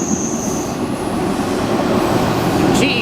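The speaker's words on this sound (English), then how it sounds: "Man, listen to that Gevo go." A GE Evolution (Gevo) diesel locomotive engine revs hard nearby, a loud continuous throbbing roar with faint wheel squeal near the end.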